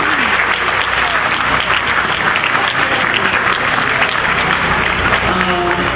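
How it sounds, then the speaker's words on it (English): Loud, sustained applause from an audience at the opening ceremony of the Mashpee Wampanoag Tribe Community and Government Center, steady dense clapping filling the whole stretch. "Applause for the team."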